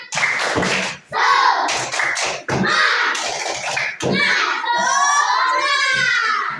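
A classroom of children performs a rhythmic group clapping chant together, sharp hand claps mixed with shouted and sung children's voices, loud and close, with a brief pause near the start.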